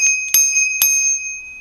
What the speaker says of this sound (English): but we do have a bell.